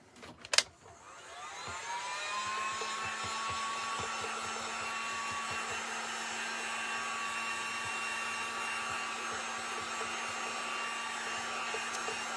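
Hair dryer blowing on a cake decoration of a small truck: a click as it switches on, then a loud, steady whirring roar that holds without a break.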